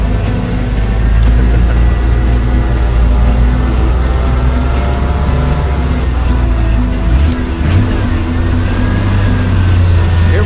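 Jeep CJ-5 engine drones steadily while driving, a loud low rumble with a continuous hum that dips briefly and recovers as the vehicle moves, no talk over it.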